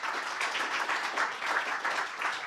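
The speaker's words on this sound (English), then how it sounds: "And now a round of applause again for Andrea and Tom and crew." A crowd claps steadily, a dense patter of many hands sustained throughout at moderate loudness.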